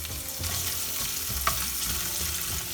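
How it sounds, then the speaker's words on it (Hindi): Finely chopped coconut frying in hot mustard oil over medium-low heat, a steady close sizzle running throughout with a faint stirring scrape near the middle. "इधर मैंने 1 टीस्पून फाइनली चॉप्ड कोकोनट लिया है, इसे फ्राई कर लेते हैं।"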